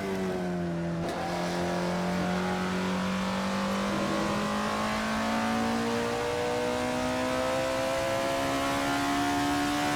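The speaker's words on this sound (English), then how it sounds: "at the mid-range RPM, it has a very nice throaty growl to it" Alfa Romeo 33 Stradale engine in the racing game Assetto Corsa holds a loud, steady, throaty growl through the mid-range, its pitch climbing slowly and smoothly over a sustained stretch with no talk.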